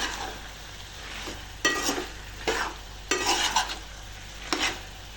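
Chicken being stirred in a pan with chicken masala and coriander powder, a spoon scraping in four or five distinct strokes over a continuous low sizzle of frying.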